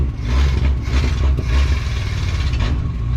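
Unmuffled engine of a 1962 Ford Falcon Tudor revving up from idle, loud, close and raw, a steady rumbling roar with a rattly clatter rising slightly through the clip, no voices.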